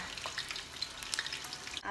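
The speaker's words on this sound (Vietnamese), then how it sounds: "Chúng ta cho toàn bộ đậu hũ vào đây. Chúng ta sẽ chiên vàng, chiên giòn." Tofu deep-frying in a pan of hot oil sizzles steadily with bright crackling pops close by, ending in a brief louder burst.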